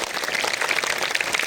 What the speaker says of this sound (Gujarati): આ બે છોકરીઓ માટે જોરદાર તાળીઓ.